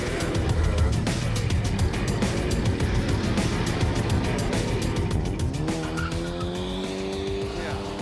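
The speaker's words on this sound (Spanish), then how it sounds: "Ustedes están en pleno barrio donde hay un montón de autos que pasan todo el tiempo." Cars pass along a neighborhood street in a steady wash of engine and tire noise, with a rising engine whine near the end as one vehicle goes by close and loud.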